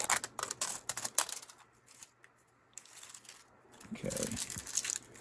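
Scissors cutting open packaging around a 1990 Donruss baseball card set, with close, sharp snipping and crinkling bursts separated by quiet gaps, then more rustling at the end.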